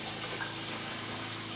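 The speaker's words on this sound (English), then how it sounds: "I think I will add one more cup of water because the beans soaked up the liquid." Water poured into bean soup in a pressure cooker makes a quiet, continuous splashing hiss with no voices.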